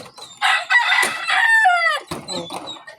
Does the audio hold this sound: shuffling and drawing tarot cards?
no